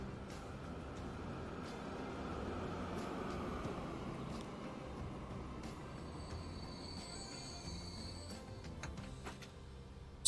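Train running in the railway simulation game Transport Fever 2: a steady low rumble of rolling wheels with occasional high metallic squeals and clicks, moderately quiet and continuous, with no voices.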